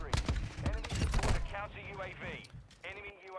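Rapid bursts of gunfire in Call of Duty Modern Warfare 2, sharp loud shots clustered at the start before fading under someone talking.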